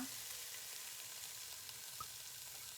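Dried green beans sautéing in sunflower oil, a faint, steady hiss of frying with a few soft pops, close and continuous with no talk.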